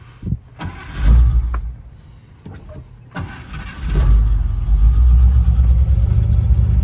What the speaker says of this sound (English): Start the car up for you now.